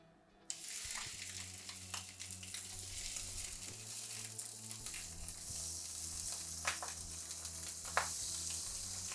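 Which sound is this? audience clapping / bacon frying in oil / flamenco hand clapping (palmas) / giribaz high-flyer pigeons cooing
bacon frying in oil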